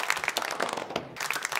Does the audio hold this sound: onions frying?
no